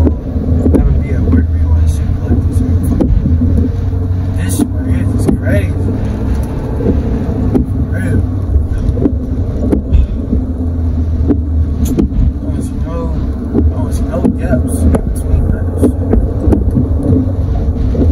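A car drives through heavy rain, with a loud, steady roar of rain and road rumble plus scattered sharp spatters throughout.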